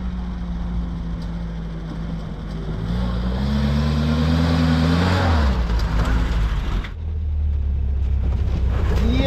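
A Gaz 69 M off-road car's engine labors over an obstacle, revving up with pitch rising and falling under load before dropping back and building again, close and loud throughout.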